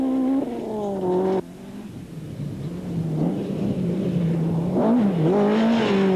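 A VW Golf rally car engine at the 1999 Rally of South Africa, revving hard through gear changes, the note dropping and climbing again, loud and close with no voices.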